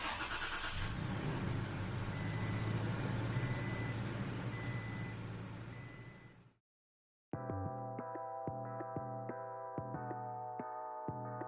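A Toyota Tacoma truck engine runs steadily and loud for several seconds, then cuts out briefly before a tonal, beeping warning-chime pattern with a low idle underneath takes over.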